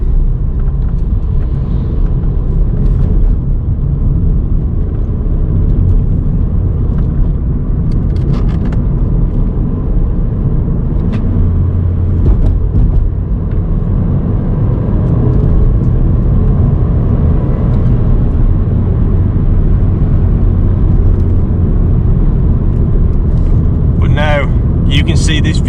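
A Ford Fiesta MK6 driving on mountain roads in Cornwall, heard from inside as a loud, steady engine and road rumble throughout, with a brief higher rattle near the end.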